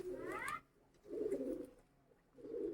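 Pigeons cooing nearby in three throaty, rolling bursts separated by short pauses, with a brief higher call at the start.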